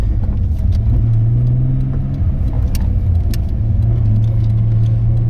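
A 700 hp turbocharged R32 Nissan GT-R with a GTW3884 67 mm turbo cruises at quarter throttle and about 3,000 RPM on 0.5 bar of boost, giving a steady, loud low drone heard from inside the car.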